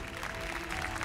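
A brief burst of steady clapping from an audience on a studio show, a short dense patter of hands lasting about a second.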